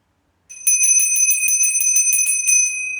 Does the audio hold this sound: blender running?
no